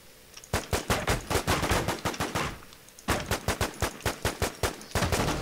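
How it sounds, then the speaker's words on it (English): Rapid automatic gunfire in a PvP video game comes in two loud bursts of sharp, evenly spaced shots, separated by a brief pause, with no talking. "He's shooting at me."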